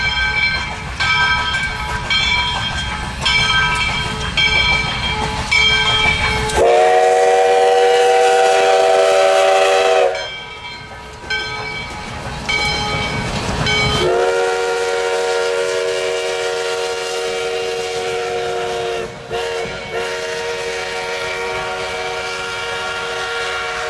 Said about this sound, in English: the first passenger train to call on Lake Placid in over 60 years eases into its station stop